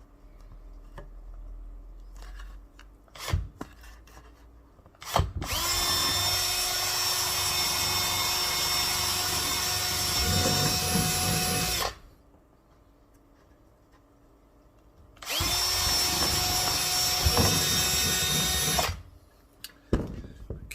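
A power drill bores holes through an ACM dibond aluminium composite sheet, whining loudly in two sustained runs of several seconds each, with short quiet gaps and a few clunks of handling around them.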